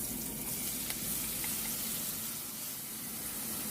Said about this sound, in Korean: 잘 달궈진 팬에 기름을 조금 둘러주세요. 불 세기는 중불입니다. 그 다음 준비한 김치를 팬에 넣어주세요